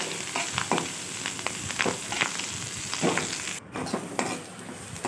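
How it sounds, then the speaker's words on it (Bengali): Curry leaves and onion frying together in mustard oil in a pan, a continuous close crackling sizzle with repeated scraping stirs and clinks throughout, no talk. "তো এরকম করে একটু কড়কড়ে করে মুচমুচে করে কারি পাতাটা পেঁয়াজের সঙ্গে ভেজে নেব"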